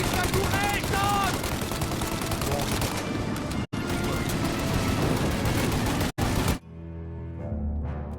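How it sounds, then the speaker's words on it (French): Sustained gunfire in the Mafia video game, aimed at a turret, with rapid overlapping shots and bursts that sound loud and dense, cut by two brief gaps before stopping. Raised voices are heard among the shooting. "Vise la tourelle quand tu vois qu'ils arrêtent de tirer!"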